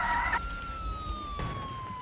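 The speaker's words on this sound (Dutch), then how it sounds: "laten we even met sirenes gaan rijden" Police car siren in the Roblox game Mad City, a steady electronic tone gliding slowly downward after a short warbling burst, heard fairly close over low rumbling game noise.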